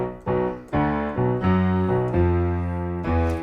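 Piano playing the second measure of the riff, a short repeated pattern of clear, close notes in a steady, driving rhythm, heard alone with no talking.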